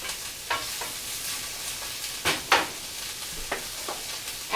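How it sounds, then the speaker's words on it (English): Sliced mushrooms and green onions fry in oil in a pan, with a soft continuous sizzle and a few sharper stirring scrapes and clatters scattered through. "I'm going to add in a cup of mushrooms and 3 green onions that I sliced up"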